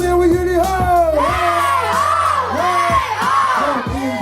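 A festival crowd at a music day shouts back rhythmic call-and-response yells, loud and close, a mass of voices answering in repeated short bursts over a low musical drone.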